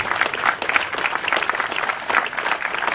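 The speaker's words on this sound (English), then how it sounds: "give him a round of applause, right?" A rally crowd at a pro-police event claps for the DJ, a busy, even patter of many hands at close range with no voices breaking through.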